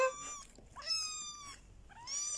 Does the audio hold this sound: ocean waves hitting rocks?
no